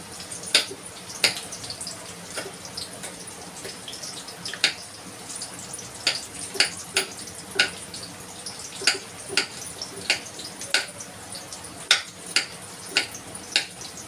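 Ivy gourd (tondli) with chillies cooks in a pan, giving a soft, steady sizzle broken by frequent crisp pops and crackles at irregular intervals, close and moderately quiet, with no voices.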